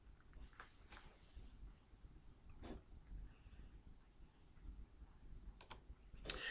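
A few sharp, quiet computer mouse clicks scattered across a soft room background, with a small cluster of clicks near the end.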